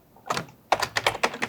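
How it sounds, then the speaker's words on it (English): Quick run of computer keyboard keystrokes, a short burst of taps, a pause, then a steadier volley of clicks as a name is entered, close and fairly quiet. "I'm going to type in his name."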